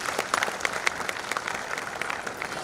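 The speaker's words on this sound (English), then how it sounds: "I think these inspiring words deserve a big round of applause" An audience at an Institution's Innovation Council regional meet applauds for a couple of seconds, with dense, crisp clapping and a few sharper individual claps standing out at moderate distance.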